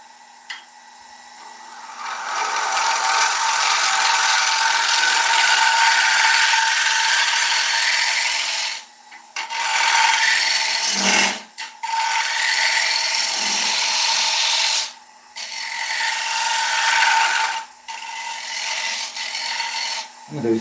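Sandpaper held against an oak serving bowl spinning on a wood lathe gives a loud, continuous close rasp with the motor's steady hum beneath, broken by several short pauses.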